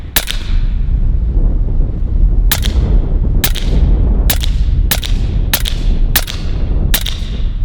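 A Western Sidewinder S .30 caliber full-auto air rifle fires pellets outdoors: eight sharp, loud cracks, spaced unevenly at first and then coming faster, over constant wind rumble on the microphone.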